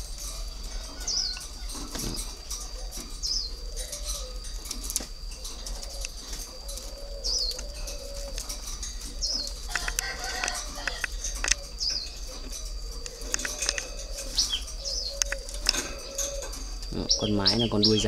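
Pair of breeding doves cooing in a cage, soft repeated coos at close range with occasional wing flutters, over steady background noise and someone talking.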